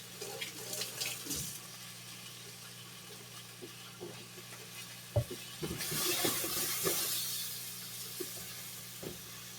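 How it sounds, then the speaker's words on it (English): Tap water runs over freshly peeled soft-boiled eggs (cooked seven minutes) in a sink, a steady close splashing stream with small knocks and clatters, the flow swelling louder midway through. "Quick rinse."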